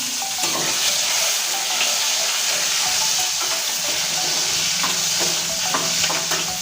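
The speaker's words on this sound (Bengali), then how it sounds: "অল্প পরিমাণ ভেজে নিচ্ছি" Tomato and green chilli fry in a pan with a continuous close sizzle and hiss, broken by occasional stirring scrapes and clinks.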